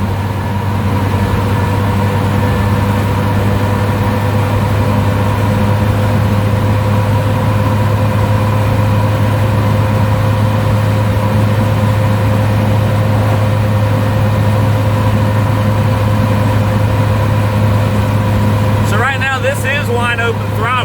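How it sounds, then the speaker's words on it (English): A Suzuki Samurai fitted with a swapped Geo Tracker 1.6 8-valve engine pulls at wide open throttle uphill in fifth gear, giving a steady, loud, droning engine note with constant road and wind roar from inside the cab. "Wide open throttle. We are running uphill, but in fifth gear, that's about as fast as it's going to go."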